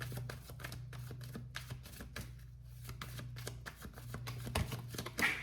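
Tarot cards riffle and slap in quick repeated bursts, close and crisp, over a faint steady low hum with no voices.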